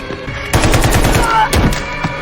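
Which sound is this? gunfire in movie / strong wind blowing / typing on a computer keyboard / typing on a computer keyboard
gunfire in movie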